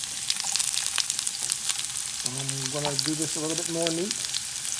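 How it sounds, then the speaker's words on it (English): Steady, bright sizzling of onions frying in hot olive oil runs throughout, with a person speaking briefly over it midway. "And we're going to dump our onions in. You can hear them sizzling."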